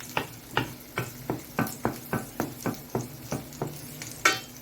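Garlic frying in oil in a pan while being stirred, giving about a dozen evenly spaced scraping stir strokes over a soft, steady sizzle, close and fairly loud.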